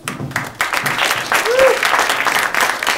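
A crowd at a Startup World event in San Francisco applauds a speaker, with a dense round of clapping and a brief voice briefly rising through it.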